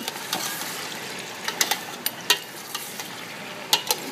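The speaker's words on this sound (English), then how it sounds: "Stir it a little bit" Okra stew with pre-cooked meat being stirred and sautéed in a pot, a soft steady sizzle broken by several sharp scraping clicks of a spoon against the pan, close and alone.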